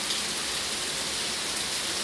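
Steady rain falls in the morning in Campinas, São Paulo, a dense, even hiss of drops on wet surfaces, continuous and fairly close with no voices.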